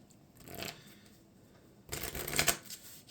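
A deck of Marvel Champions game cards is shuffled in two bursts of crisp riffling, a short one early and a louder, longer one later, with quiet in between and no voices.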